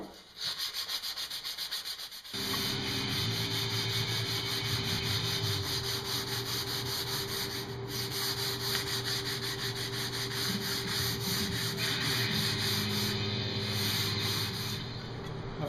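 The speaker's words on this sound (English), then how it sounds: "I want to make sure I break all these edges with some 220 grit sandpaper" Cherry wood edges being broken by hand with 220 grit sandpaper, a close rhythmic rasping rub that starts after a brief softer moment and continues steadily.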